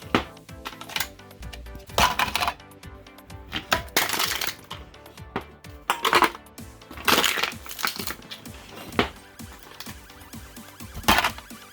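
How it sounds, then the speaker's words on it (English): Beer cans are crushed one after another in a KANBOL can crusher, each a sharp, crackling metallic crunch in an irregular series of close, loud bursts. "I have full bag of the cans, and I crush them and zap to have just a little bit of the cans"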